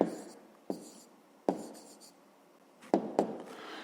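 A pen scratches on paper while a maths answer is written down, a soft continuous scribble broken by several sharp taps as strokes begin, close and alone.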